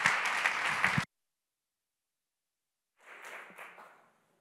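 An audience applauds a speaker at the opening of an education learning festival. The clapping is brief and fairly loud, then cuts out into silence before quieter applause returns.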